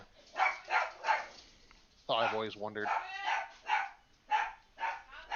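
Dogs give a brief whining, yelping outburst at close range in the middle of a person's steady talk, which continues before and after.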